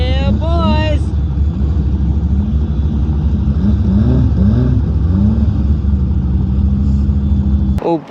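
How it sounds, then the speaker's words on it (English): A Honda Civic pulls out behind a moving car, its engine rising and falling in pitch under the cabin's steady road rumble, while people talk nearby and a sharp click sounds at the end. "We have Mr. Brent just pulling out behind us in the Civic."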